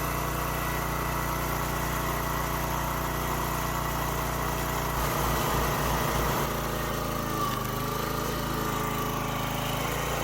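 A gas engine-powered log splitter runs with a loud, steady engine drone, and a short burst of rhythmic pulsing midway marks the engine labouring under load before it settles back to a steady run.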